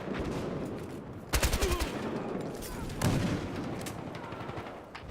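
Gunfire in the Battlefield Hardline team deathmatch game cracks out in rapid automatic bursts, two heavier volleys standing out over constant background battle noise, with faint game voices.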